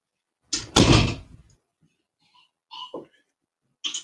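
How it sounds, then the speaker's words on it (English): A door swings and shuts with a loud thump and rattle early on, followed by a few fainter knocks and creaks in a quiet room. "Close the door."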